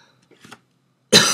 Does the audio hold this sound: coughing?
yes